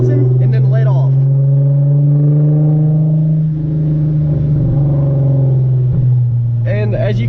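A Hyundai Genesis Coupe engine runs as a loud, steady drone that slowly builds in pitch toward 3,000 RPM. Brief voices are heard near the start and end.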